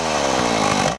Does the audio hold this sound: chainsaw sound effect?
yes